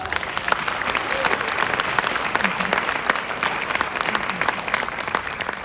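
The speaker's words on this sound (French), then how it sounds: "on peut applaudir pour sa carrière" Audience applause at a film premiere at a UGC cinema, a steady dense clatter of many hands clapping continuously throughout, with a faint voice or two underneath.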